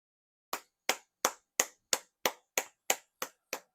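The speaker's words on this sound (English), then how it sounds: "I had to give it a round of applause" Ten crisp hand claps in a steady, even rhythm, close and isolated against silence, like one person slowly applauding.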